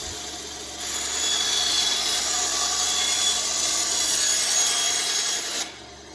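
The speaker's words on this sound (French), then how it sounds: "Découpe avec scie à ruban et lame acier" A band saw with a steel blade cuts through material in one steady, continuous run lasting about five seconds, with a bright grinding rasp that starts and stops abruptly, close and fairly loud.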